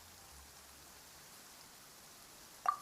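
Steady, faint rain falling in the video game Genshin Impact, a soft continuous hiss that holds evenly throughout, with one brief brighter tick near the end.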